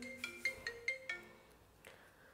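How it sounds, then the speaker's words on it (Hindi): An incoming call on a mobile phone sounds as a short, quick series of five bright tonal ringtone beeps, fairly faint in a quiet room, followed by a soft knock. "रोहित का फ़ोन आ गया"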